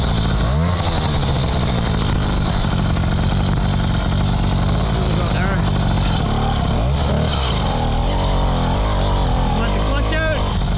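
A Motopedal motorized bicycle engine runs loud and close after the clutch is popped, a continuous buzzing two-stroke drone with wavering revs from start to finish, while someone talks over it.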